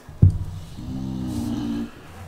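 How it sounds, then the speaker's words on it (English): A bulldog snores close by: one drawn-out, low, rumbling breath with a guttural rasp, preceded by a short thump, in a quiet room without speech. "Bulldog is snoring behind me."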